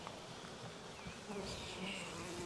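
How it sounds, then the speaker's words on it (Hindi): Honey bees swarm around a frame lifted out of an opened beehive, giving a faint, continuous buzzing drone with a few passing bees whining closer. Voices are not clearly present. "ये यहीं पे पूरा शहद बनाती है मक्खियाँ।"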